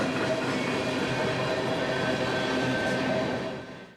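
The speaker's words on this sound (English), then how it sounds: "as Steve Morrissey, we saw at least 2 trains hauling tank cars roll past just outside her back door." Freight trains hauling crude oil tank cars roll past a backyard, a steady, moderately loud rumbling rush of wheels on rails with faint clatter, fading at the end.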